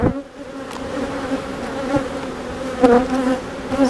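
Honeybees buzzing at a busy hive during a nectar flow, a dense close hum with steady tonal drone and occasional louder passes of individual bees.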